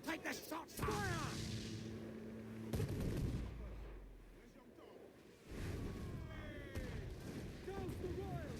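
Naval cannons fire from a sailing ship in the video game Assassin's Creed Black Flag, heavy booms and rolling blasts one after another amid a dense, loud battle din, with voices calling out orders.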